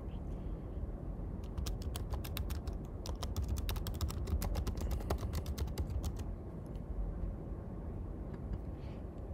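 Someone types a description on a computer keyboard, producing a quick run of light key clicks for several seconds before the tapping stops over quiet room hum.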